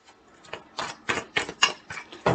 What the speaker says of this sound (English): let me just shuffle here a couple times